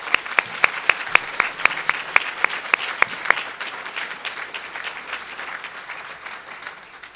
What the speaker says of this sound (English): give a round of applause to all these companies that have really stepped up and hired the unemployed.